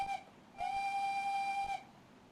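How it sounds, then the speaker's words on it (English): Steam whistle of a BR 4F Fowler locomotive in Train Simulator 2016, a brief toot followed by a longer steady blast of about a second, clear and tonal against quiet background. "A very important tool for the locomotive driver is the whistle."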